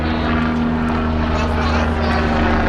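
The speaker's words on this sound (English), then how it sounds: "we've got an helicopter flying over." An air ambulance helicopter passes overhead above a town square by the water, a loud steady droning rotor hum with a strong low tone that fills the scene.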